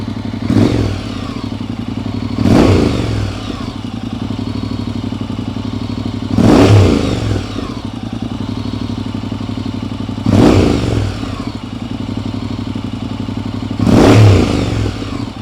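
A Honda NC750X motorcycle fitted with a Black Widow 300mm exhaust idles with a low rumble and is revved in five sharp, evenly spaced bursts, loud and close, with no speech.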